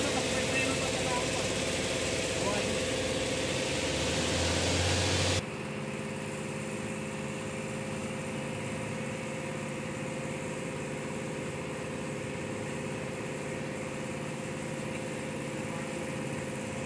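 A Toyota Innova engine idles during a transmission oil change, a steady continuous hum at moderate level that drops to a quieter idle about five seconds in and stays even, with speech over it.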